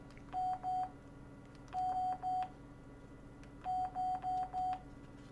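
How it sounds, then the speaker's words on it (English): Baby monitor beeping nearby in short, clear electronic tones arranged in groups of two, two, then four, over a quiet background. "In case you're wondering what it is, that was a baby monitor."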